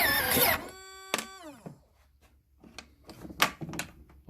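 Engine of a 2018 Jetsurf GP motorized surfboard trying to start: a harsh burst of cranking, then a whine that winds down and dies out, followed by scattered knocks and clunks close by.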